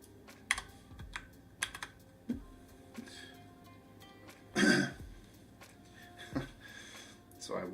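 Fingers tap on a computer keyboard in bursts of quick clicks with pauses, close by, broken by a throat clear and a short louder clatter, in a quiet room.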